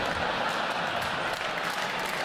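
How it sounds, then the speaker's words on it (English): An audience claps in a steady, dense wash of applause that stays even and fairly loud throughout the brief stretch, with no voices over it. "There's applause"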